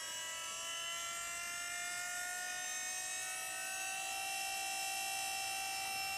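An electric power steering pump fitted to a BMW E36 EV conversion spins up and runs, a steady high whine with layered tonal hums over a constant low hiss, moderately quiet and heard alone without talk.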